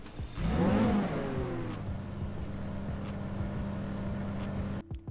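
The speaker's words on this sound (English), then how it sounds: "let's jump in the 812 Superfast. This thing sounds amazing. Alright, let's take a listen to the startup." Ferrari 812 Superfast engine in GTA 5 starts up with a sharp rising rev burst, then settles into a steady deep idle rumble, alone and close, with a brief cut near the end.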